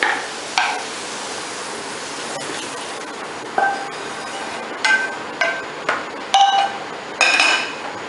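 Metal utensils clink and tap against a bowl as cooked mushrooms are moved into it, a series of sharp, close knocks at irregular intervals, growing more frequent toward the end.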